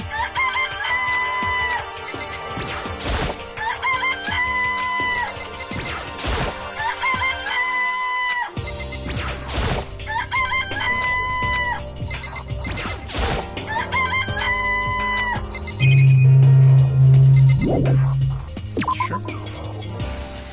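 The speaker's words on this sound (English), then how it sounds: "This place even has chickens, huh?" Chickens in a coop from the video game Danganronpa cluck and crow in repeated short bursts, with a rooster-like call over a steady game background and occasional thumps.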